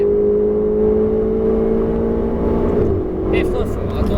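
A Ferrari 488 GTB on the Fay-de-Bretagne circuit holds a loud, steady engine drone from inside the car, the tone slowly easing, with a voice cutting in near the end.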